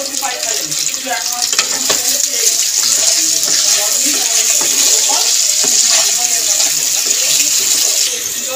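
Potatoes and jackfruit seeds fry in a pan with a steady, loud sizzle, and a spoon scrapes and stirs through them with irregular knocks and rustles.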